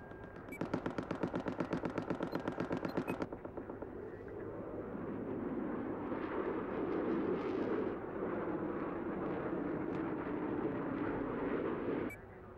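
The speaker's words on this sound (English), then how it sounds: "Gunship attacking" Rapid gunfire from a gunship in Battlefield 4 on Golmud Railway: a dense, fast burst of shots for about three seconds, then a sustained roaring rumble of engines and distant impacts that fills the rest of the scene.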